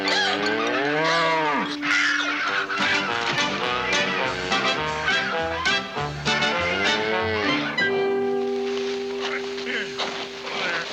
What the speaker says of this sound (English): You bring a cow.